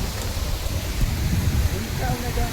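Heavy monsoon rain falling around an old, decaying iron river bridge in a Konkan village, a dense steady hiss close by, with a faint voice briefly under it.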